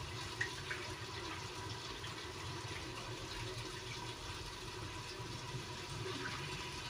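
Something is rinsed several times under a running tap at home, giving a steady, faint rush of flowing water throughout, with no talking.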